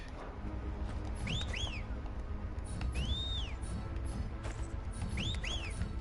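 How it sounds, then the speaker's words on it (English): A Final Fantasy XVI character gives the Taunt whistle, a series of rising-and-falling whistled calls in short pairs that repeat three times over steady game ambience. "It's just you whistle them."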